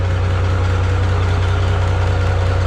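Minneapolis-Moline G950 tractor engine idling steadily through a new, louder muffler on a cold day, a loud, even low drone with a strong hum and rapid exhaust pulses, close by and without talk.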